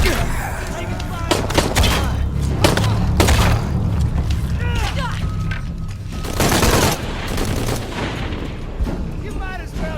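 Gunfire in the video game Shadow of the Tomb Raider, with loud bursts and single shots scattered across a dense combat mix of booms and low rumble, while game voices call out over the fighting.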